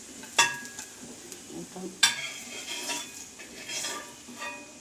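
Karimeen (pearl spot fish) frying in a pan, a steady low sizzle with two sharp metallic clinks of a utensil against the pan.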